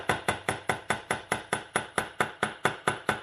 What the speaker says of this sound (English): Take the ball end of a ball peen hammer, and you're going to mushroom the metal out.